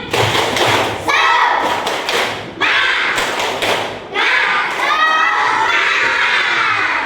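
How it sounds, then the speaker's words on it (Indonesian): A classroom of children performs a rhythmic spirit clap chant, with loud patterned clapping and thumping bursts mixed with shouted chanting voices, pausing briefly between rounds. "Ya, tepuk semangat."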